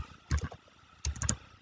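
Two short bursts of clicks from a computer keyboard during Python programming, as someone presses copy and paste shortcuts; close and fairly quiet, with a silent gap between bursts.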